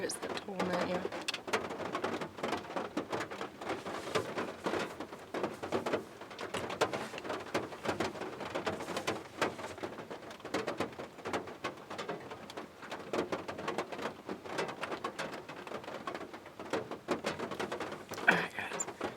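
Rain patters continuously around a campsite during a camp-out, a soft, fine crackle of drops with scattered sharper taps, and a bird cooing faintly in the background near the start.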